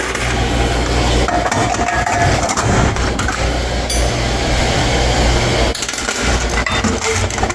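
Coins pour and jingle as they are emptied from laundromat washing machines, a dense clinking over a loud, steady mechanical rumble, with no one talking.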